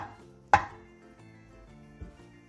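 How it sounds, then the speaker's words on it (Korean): A knife cuts tofu into large chunks on a cutting board, one sharp close chop followed by a softer second cut, with no talk. "두부 밥물을 먹기 좋은 크기로 큼직하게 잘라주세요."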